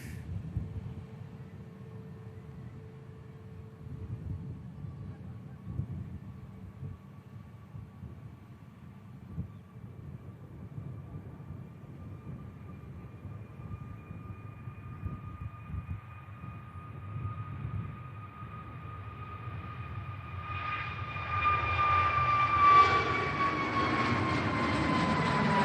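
An Egypt-bound airliner takes off from Manchester Airport: a fairly quiet engine hum with steady whining tones that builds into a louder, broader roar near the end.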